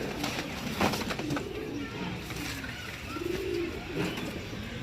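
Pigeons in a breeder's loft in Sialkot coo in soft, repeated low calls against a busy background hum, with faint chirps mixed in.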